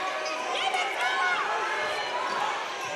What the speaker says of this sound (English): that Wildcat crowd is loud tonight